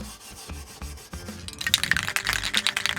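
Hand sanding a 1969 Mustang hood with 360 grit sandpaper, close, quiet rubbing strokes that grow busier and scratchier toward the end.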